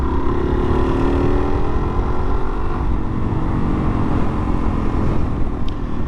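A 2022 Suzuki DR-Z400S motorcycle under way, its single-cylinder engine a loud continuous drone with rising pitch as it pulls through a tall first gear, heavy wind rush over the top.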